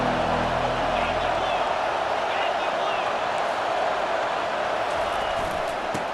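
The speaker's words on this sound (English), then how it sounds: "This crowd trying to show them what it's going to be like all day in this house." Crowd noise fills a college football stadium during a Penn State versus Auburn game, a sustained, dense roar of many voices that stays loud and even from start to finish.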